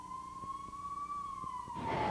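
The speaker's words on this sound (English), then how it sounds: "The sound of the siren sends their hearts racing." A wailing emergency siren sounds during the 1998 flood in Carter County, a steady rising-and-falling tone that swells louder toward the end as rushing noise builds underneath.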